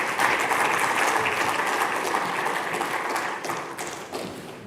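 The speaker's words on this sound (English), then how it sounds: "Can we have a round of applause for our panel?" A conference audience applauds a panel warmly, a dense patter of many clapping hands that stays steady before gradually tapering off.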